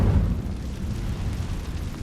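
Incendio fire spell blast cast in Hogwarts Legacy, a continuous roaring, rumbling burst of flame that fills the whole moment at steady loudness, heavy in the low end, with no voices.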